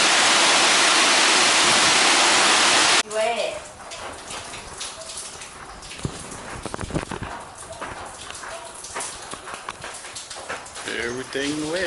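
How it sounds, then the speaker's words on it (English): A severe thunderstorm in Nakhon Phanom, Thailand, opens with a loud, dense roar of wind-driven rain for about three seconds. It then cuts to a quieter wash of rain and wind beneath people talking. "strong wind."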